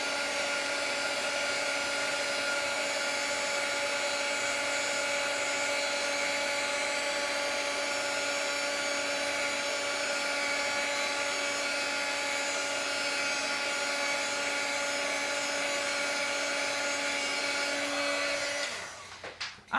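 A craft heat tool melts embossing powder with a steady, loud fan whine and hum that holds for nearly twenty seconds, then cuts off abruptly at the end.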